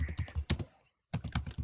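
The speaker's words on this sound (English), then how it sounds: "Can I type or can I not type?" Quick clicking keystrokes on a computer keyboard, close and distinct, a short run of taps, a brief pause, then another burst of typing.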